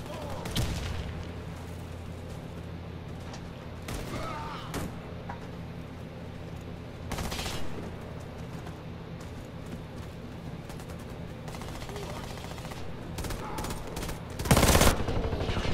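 9mm submachine guns fire in Warface, with short scattered bursts popping out of a quiet background, a louder volley near the end, and brief voices between shots.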